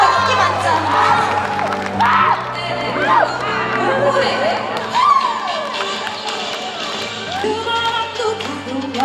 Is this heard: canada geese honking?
no